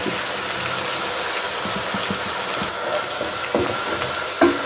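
Potatoes and onions fry in a pan for Bihari aloo qeema, giving a continuous bright sizzle close by. A few soft stirring knocks and scrapes break through the crackle, with no talking.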